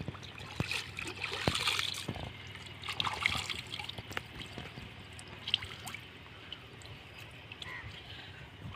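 Water is poured and trickles over someone's head during a hair wash, faint and uneven, with soft splashes and drips at close range in a quiet outdoor setting.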